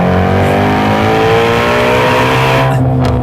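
A Ford Mustang Shelby GT350 engine revs hard under full acceleration, a loud, close, sustained roar whose pitch climbs steadily, with no voices.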